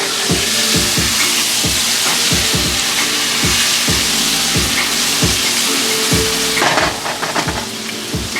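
Chicken pieces frying on a stove for homemade orange chicken give a loud, steady sizzle close by, with regular clacks of stirring or tossing throughout. No one talks.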